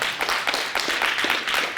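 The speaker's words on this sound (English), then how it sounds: "Give yourselves a round of applause." An audience at a school signing day claps in a brief, steady burst, close and fairly loud.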